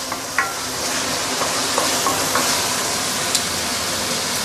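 Curry leaves sauté in a pan for a Malaysian home-style chicken curry, giving a steady, close hiss with a few soft scrapes and taps of stirring spread through, and no one speaking.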